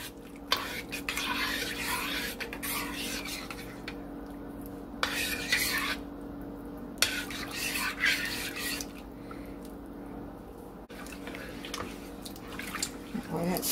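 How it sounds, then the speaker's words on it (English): A spoon rasping against a pot while horseradish is stirred into corned beef stew, repeated scraping strokes in bursts, close and fairly quiet, under a person talking. "Boy, that scraping sound, I don't want to bother anybody with that sound."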